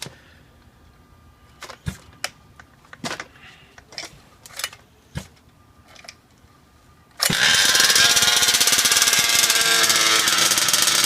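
5th scale gas RC motor during break-in: scattered sharp pull-start pops and rattles, then the engine catches and runs loud and steady at a high idle, close by.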